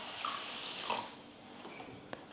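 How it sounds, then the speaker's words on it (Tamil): A cup of water is poured into a pan holding 400 grams of sugar to make syrup for Mysore pak. It gives a faint, soft trickle and splash, with a small click near the end. "1 கப் தண்ணி வந்து சேர்த்துக்கிறேன்"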